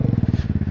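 A Dafra Next 250 motorcycle fitted with a Jeskap GP carbon exhaust idles close up, giving a loud, low, rapid, even putter of exhaust pulses with no voices over it.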